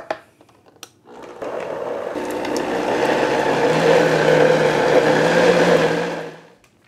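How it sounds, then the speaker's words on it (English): A kitchen blender whirs steadily as it purées hummus ingredients. The loud, continuous grinding roar starts after a brief pause with a few faint bumps, holds for about five seconds, then cuts off. "start and stop and basically just push everything down so the blade of the blender gets all the ingredients"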